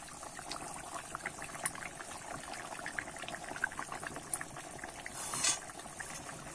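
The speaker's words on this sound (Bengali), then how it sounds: "এবারে ঝোলটা আমি ভালো করে ফুটিয়ে নেব।" Fish curry broth boils in a pot, a soft continuous bubbling and popping close by at low volume, with a slightly louder burst of bubbles near the end.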